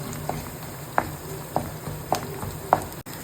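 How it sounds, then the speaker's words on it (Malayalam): Chili flakes frying in hot oil for a Kerala-style prawn roast, with a soft steady sizzle broken by four sharp stirring scrapes at regular intervals, close and moderately quiet. "ഈ ചില്ലി ഫ്ലേക്സ് ഒന്ന് മൂക്കട്ടെ"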